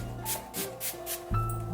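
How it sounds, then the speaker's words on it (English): Four quick, close hisses from a spray bottle of leave-in conditioner sprayed onto hair come in an even rhythm, followed by a low steady hum. "Just spray it throughout my hair"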